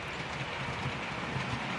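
A model railway train rolls steadily past through a stone-lined tunnel on a layout junction, giving a continuous, fairly close rumble with faint rhythmic clatter and no talking.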